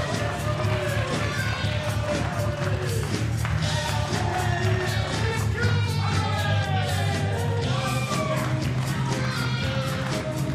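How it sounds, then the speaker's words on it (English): A wrestling crowd at a Capitol Wrestling show chanting "Kip, Kip, hooray!" in rhythmic unison, a loud, dense arena roar of many voices with repeated pulses throughout. "And you can hear the crowd saying, "Kip, Kip, hooray!""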